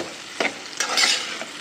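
Onions fry in a pan with raw mango and cashew curry ingredients, a soft sizzle broken by three or four quick spatula stirs, close and fairly loud.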